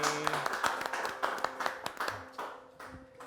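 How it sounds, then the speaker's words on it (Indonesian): An audience at a memorial award presentation for Pastor Raditya Oloan gives scattered, fairly quiet clapping with distinct individual claps, somewhat distant. "Oke, tepuk tangan dong semuanya yang ada di sini."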